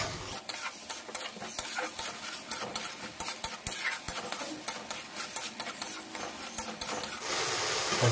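Spice paste with Kashmiri chilli powder and chopped tomato fries in a pan, with busy rhythmic scraping and stirring clatter over a soft continuous sizzle.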